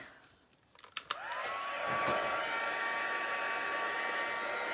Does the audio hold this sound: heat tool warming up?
yes